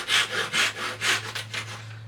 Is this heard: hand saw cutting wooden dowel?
yes